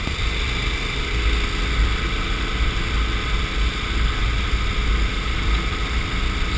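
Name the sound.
KTM 1090 Adventure R motorcycle riding off-road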